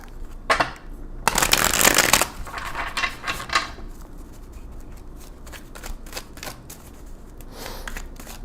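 Tarot cards are shuffled with a loud riffle burst followed by lighter flicks and taps of the card stack. A quieter rustle trails off afterward.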